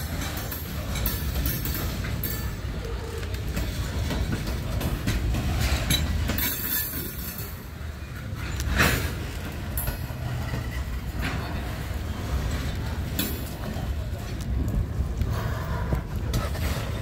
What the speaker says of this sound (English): train is 76 cars